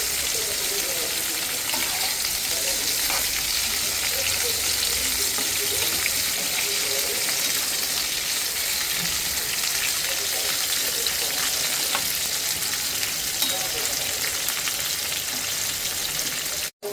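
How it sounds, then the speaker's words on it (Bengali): Cauliflower frying in a pan of hot oil gives a steady, close sizzling hiss that runs unbroken for the whole stretch, with faint clinks and stirring beneath it. "ফুলকপিগুলো আমি একটু ভেজে নিব"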